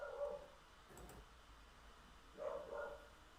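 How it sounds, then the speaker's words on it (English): A dog barks and yelps faintly in the distance, two quiet bursts about two seconds apart under a low steady background hum. "Oh god, I hear my dog freaking out."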